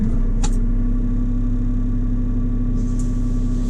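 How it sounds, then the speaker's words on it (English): A Multihog CX multi-purpose tractor's engine runs at a steady, close idle with a constant low rumble and hum, while faint brief clicks sound near the start and end. "to switch the machine on, you want to turn the key to the ignition position, give the dash a chance to switch on, and then turn the rest of the way"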